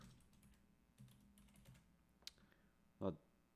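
Someone types on a computer keyboard in short, scattered clusters of faint clicks, with a sharper tap near the end and quiet room background.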